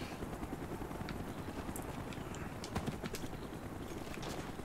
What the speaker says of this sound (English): I don't like that helicopter being over there.